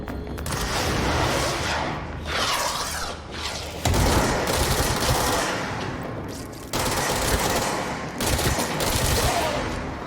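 Rapid, sustained gunfire from a fast-firing weapon in the video game Control, loud bursts crackling continuously with brief shifts between volleys and no speech over it.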